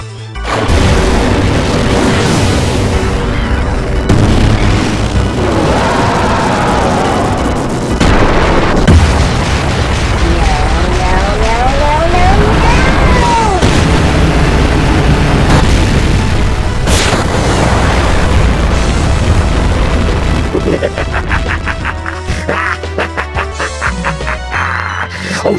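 Hellfire spell in Final Fantasy VIII: loud, sustained rumbling blasts and crashing bursts that roll on for many seconds, with sweeping tonal effects layered over the roar and a fading tail at the end.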